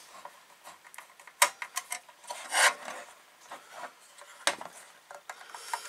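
Screws being driven into an Agora Models Super Snake model kit, heard as quiet, close rasping and scraping strokes in short irregular bursts, with small ticks between them and no talk.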